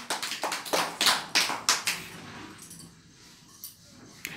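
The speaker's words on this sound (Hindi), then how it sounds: "ताली" A group of young children claps together in a classroom quiz, a run of about seven quick, sharp claps in steady rhythm, then it fades to quiet room tone with a couple of faint taps.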